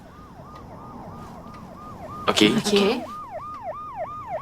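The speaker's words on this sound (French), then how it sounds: "C'est pour nous, l'ambulance?" An ambulance siren wails in a steady, repeating up-and-down pattern, loud and close, with a brief burst of louder noise and short spoken words partway through before the siren continues.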